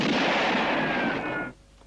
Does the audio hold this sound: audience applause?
no